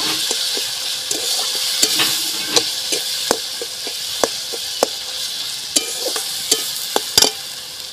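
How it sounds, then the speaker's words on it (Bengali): Ginger paste and chili paste sauté in a hot pan with turmeric for a mango and snakehead fish dish, a steady bright sizzle broken by sharp scraping clicks of a spatula stirring against the pan. "একটু আদা বাটা দেব, একটু লঙ্কা বাটা দেব, দিয়ে আর একটু কষিয়ে নেব।"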